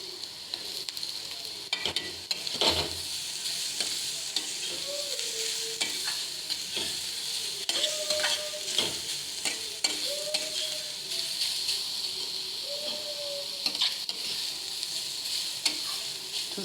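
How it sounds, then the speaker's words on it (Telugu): Finely grated carrot sizzling and being stir-fried in a pan for curry, a steady frying hiss broken by repeated scrapes and taps of a spatula against the pan. "ఇప్పుడు సన్నగా తరిగి పెట్టుకున్న క్యారెట్ కూరని ఇందులో వేసేసాను."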